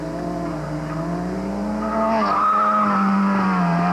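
An autocross race car on racing slicks spins out at the far end of a Solo 2 course, tires squealing and skidding in a loud sliding wail over the engine, with the pitch bending as it rotates.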